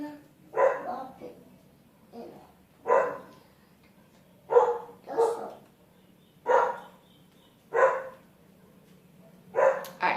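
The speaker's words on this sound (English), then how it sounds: "every time I video on, the dog decides for bark" A small dog barking repeatedly at a steady pace, sharp single and double yaps spaced a second or two apart, close and loud over a quiet room with a low hum.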